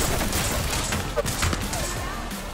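Gunfire in the Apex Legends game, a steady loud stream of shots and impacts running throughout, with players talking over it.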